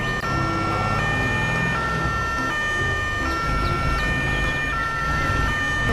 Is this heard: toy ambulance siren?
yes